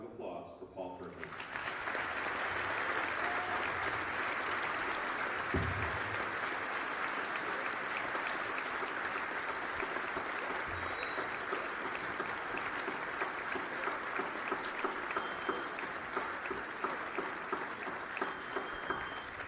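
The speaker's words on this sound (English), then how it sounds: "Please join me in a round of applause for Paul Finucane." Sustained crowd applause fills a gym at a St. Ignatius vs St. Patrick high school basketball championship, a steady wash of many hands clapping at high volume for most of the clip after a quiet start.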